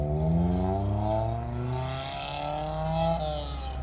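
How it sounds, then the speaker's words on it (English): A 1977 Ford Bronco, a lifted truck with an aftermarket exhaust, drives and accelerates around a corner, its engine drone rising in pitch with a throaty exhaust note, heard alone without talk. "Truck sounds good. It's got a nice exhaust system on it."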